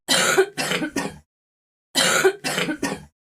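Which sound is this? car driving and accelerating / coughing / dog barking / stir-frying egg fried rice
coughing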